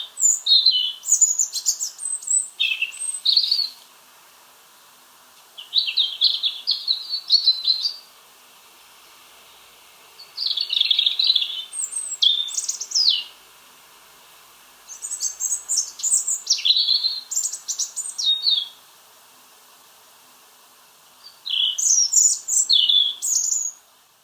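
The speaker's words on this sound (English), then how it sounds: "I've been enjoying the robin's song, which is particularly noticeable on sunny days." A robin sings in a garden in November, giving five separate high, warbling phrases of thin trills and tweets, each a few seconds long and separated by quiet pauses, clear and fairly close against a hushed background.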